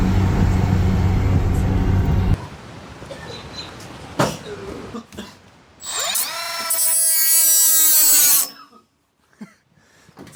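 Power tools grinding and cutting off welds on a car roll cage in a garage, loud bursts of whirring and metallic screeching, with a high-pitched grinding passage near the end before it cuts out.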